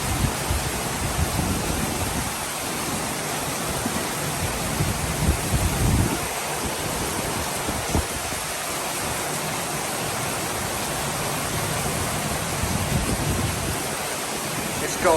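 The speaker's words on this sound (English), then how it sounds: "The rain has now started to come down." Heavy rain pouring down outdoors in big drops, a dense, steady broadband hiss with no break, loud and close throughout.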